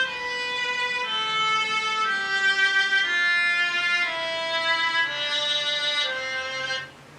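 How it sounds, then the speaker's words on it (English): Violin playing a slow sequence of sustained bowed notes, stepping through a simple melody, clear and close, alone. "So that is the sound of the violin."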